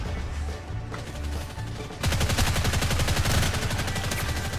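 Video game gunfire in The Mean Greens: Plastic Warfare, a Toy Story themed toy-soldier shooter: sporadic shots give way to a dense, rapid machine-gun burst that continues steadily for several seconds.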